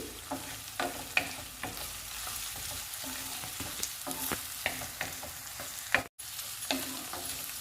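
Ingredients for egg rice frying in a pan, a soft constant sizzle punctuated by repeated scraping and tapping stirs of a spatula, close and fairly quiet, with one brief dropout near the end and no speech.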